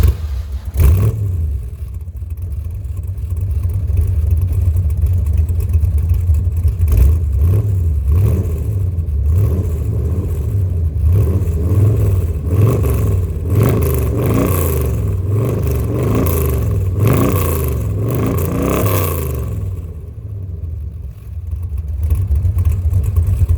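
A 1968 C3 Corvette drives on the road, its engine droning loudly and steadily throughout, with rising and falling revs, some clatter and no talk.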